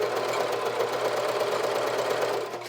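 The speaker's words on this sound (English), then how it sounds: "just twin stitch all the way around the circumference." Sewing machine twin stitching the turned-under hem around a camisole, a steady fast continuous whirring hum held evenly throughout, close and loud, easing off at the very end.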